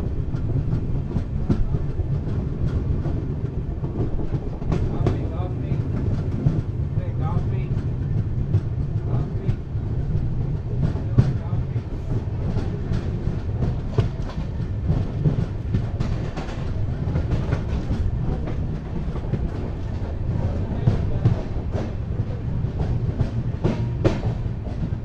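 Bengaluru-Tirupati Intercity Express rolls steadily on the rails near Kuppam, a loud continuous rumble with rhythmic clickety-clack wheel beats heard from inside the carriage.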